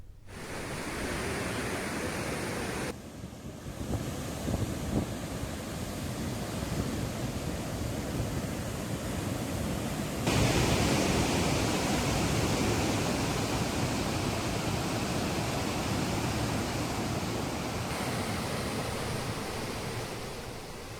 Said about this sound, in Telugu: దీంతో బరాజ్ 74 గేట్లు ఎత్తి నీటిని దిగువకు వదులుతున్నారు